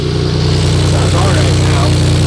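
A BMW E46 drift car's engine runs with a misfire, giving a loud, steady idle with an uneven pulsing rumble at close range and no talking over it.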